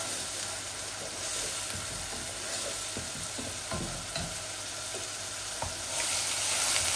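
Bay leaves and dry spices sizzle and crackle in hot oil in a home kitchen while Bangladeshi dishes are cooked. The frying is soft and continuous, with scattered pops and stirring scrapes and no talking.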